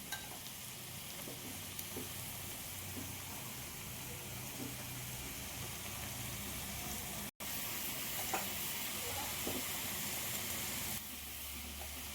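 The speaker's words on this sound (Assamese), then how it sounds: "এইখিনি মই অকণমান সময় ভাজিছোঁ ইয়াৰ পানীটো শুহি গৈছে" Fish dish ingredients frying in a pan after their liquid has cooked off give a soft, even, steady sizzle, with a brief cut near the middle and no voices.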